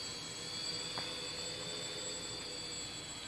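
A multirotor drone hovers nearby in GPS position hold, its high, steady motor whine droning evenly with faint background noise and no talking.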